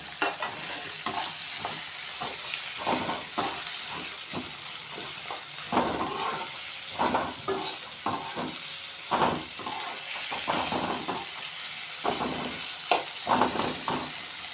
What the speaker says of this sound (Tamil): இதில் முந்திரி பருப்பும் போட்டுக்கிறோம். போட்டுட்டு நல்லா வதக்கிக்கோங்க.